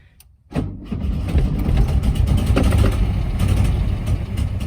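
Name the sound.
1971 Karmann Ghia engine starting and running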